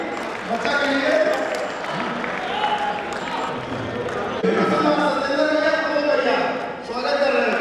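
Crowd applause at a large outdoor ground event in Lucknow, welcoming a child performer; steady, dense clapping runs throughout with an announcer talking over it.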